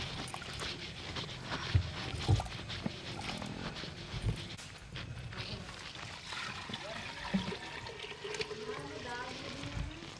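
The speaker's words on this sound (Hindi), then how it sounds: "और देखिए हमने इसमें मटकी में पानी डाल लिया" Water is poured into a clay pot (matki) for cooking rice beside a wood fire outdoors, a splashing trickle mixed with scattered thumps and clatter at moderate loudness.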